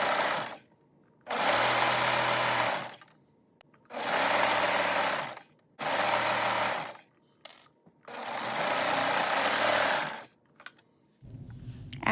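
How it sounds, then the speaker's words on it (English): A serger overlock machine sews bands onto a maxi jogging skirt, running close and loud in four separate bursts of a few seconds each, with short quiet gaps between them and no talking. "I'm going to take it back to my serger and serge it on"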